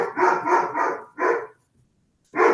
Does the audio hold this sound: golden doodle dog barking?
yes